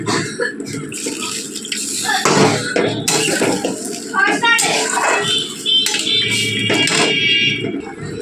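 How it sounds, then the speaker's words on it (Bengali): Water splashes into a hot pan of frying potatoes and hisses loudly, mixed with ongoing talk and clattering kitchen noise. "এখন আমি জল দিয়ে দেবো।"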